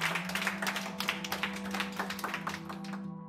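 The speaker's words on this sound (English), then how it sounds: "Clap for that person who have said that." Classroom pupils clap together for a classmate, a dense run of quick, uneven claps at close range over a steady low hum, easing off toward the end.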